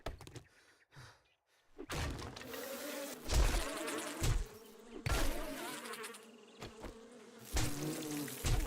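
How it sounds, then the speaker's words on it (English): Bees buzzing in the survival game 7 Days to Die, a steady insect drone running through the clip with bursts of game clatter and impacts layered over it. "I'm gonna die because of the bees."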